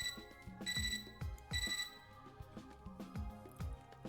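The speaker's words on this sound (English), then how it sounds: "I'm startled out of my silent contemplation by a beeping from my computer terminal." Electronic beeping and chiming from a computer terminal in the video game Fate/Extra, a rhythmic sequence of bright tonal blips over a pulsing low synth pattern, fairly loud and alone.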